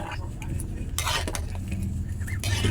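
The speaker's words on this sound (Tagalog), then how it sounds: "Haluin natin." Stirring papaitan soup with kamias in a pot, a spoon scraping and clinking against the metal in steady strokes, with a soft simmer underneath, close and fairly loud.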